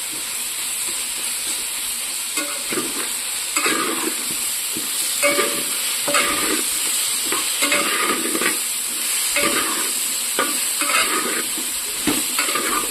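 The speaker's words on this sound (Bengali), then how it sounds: "তো পেঁয়াজ টমেটো মোটামুটি ভাজা হয়ে গেছে" Onions and tomatoes fry in a pan with a steady close sizzle and hiss, broken by repeated scraping and stirring strokes of a utensil against the pan at an uneven rhythm.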